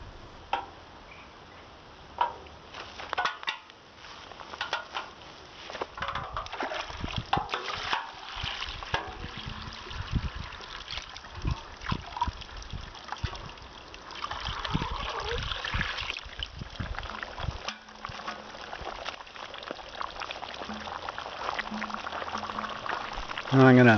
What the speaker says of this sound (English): pulled the plugs out, and I'm flushing them both out now with fresh water